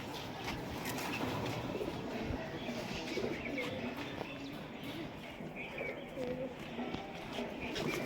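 Pigeons kept in a backyard loft coo softly in repeated low calls with a few chirps mixed in, set against faint ambient noise and occasional voices.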